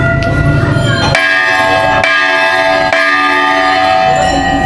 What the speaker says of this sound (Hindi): और ये घंटियाँ आई कहाँ से इतनी सारी?